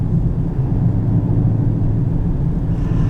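A 2018 Dodge Demon with a supercharged V8 accelerating hard, heard from inside the cabin as a loud, steady low engine rumble that holds for the whole stretch.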